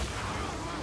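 A machine gun fires in The Outer Worlds video game as a short, dense, continuous burst of loud rapid shots that fills the whole moment.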